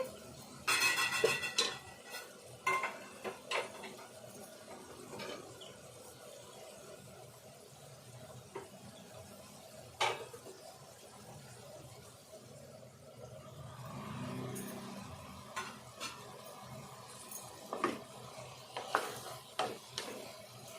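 Tomato being cooked and stirred in a pan with field beans for a curry, giving faint scattered spoon scrapes and clicks over a soft low sizzle, fairly quiet with no talking.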